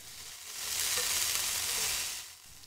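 A beef burger patty fries in hot oil, giving a loud, steady sizzle that swells as it hits the oil and then eases slightly, heard close and alone.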